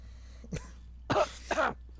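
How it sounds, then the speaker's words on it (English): A brief throat sound followed by two close, short coughs in quick succession. "I was coughing."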